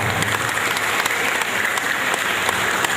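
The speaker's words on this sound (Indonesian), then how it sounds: "Tepuk tangan untuk Ibu Wali Kota." Steady applause from an audience honoring the mayor at a World Environment Day event in South Tangerang city, 2015, dense continuous clapping filling the whole moment at even loudness, with no voices on top.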